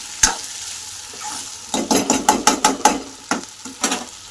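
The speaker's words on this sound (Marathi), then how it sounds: "आता स्लो गॅसवर याला शिजवून घेते 15 मिनिटं" Potatoes cooking in a pan on low gas for a potato chutney, with a faint background sizzle under a rapid run of loud, close metallic scrapes and clacks from a spatula against the pan, and no speech.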